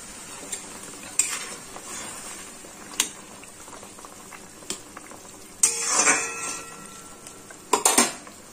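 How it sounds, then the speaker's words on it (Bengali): Thin pabda fish curry with fried eggplant and black cumin boiling in a pot, a soft steady bubbling with a few sharp metal clinks and stirring scrapes rising over it. "পাবদা মাছের পাতলা ঝোল দেখুন একদম রেডি, ফুটে উঠেছে।"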